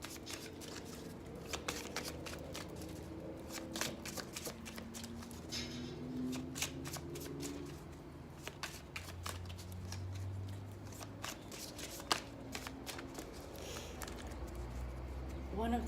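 Rapid, crisp clicks of playing cards being riffled and shuffled close up, repeated in bursts with faint background murmur.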